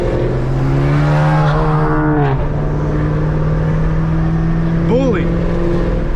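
Chevrolet Camaro ZL1 with a Corsa exhaust sustains a loud, close, droning rev before the pitch drops and settles into a steady rumble, with a brief burst of rising tone near the end, under a speaking voice.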